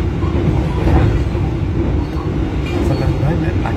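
Steady, loud rumble and rolling clatter from inside a moving Brantas economy-class passenger train travelling toward Jakarta via Semarang Tawang, a continuous close wash of wheel and carriage noise with no clear breaks.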